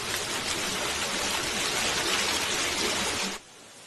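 Water rushing steadily from a fountain in a formal French-style garden in Russia, a dense, even splashing wash that holds for over three seconds before dropping away abruptly.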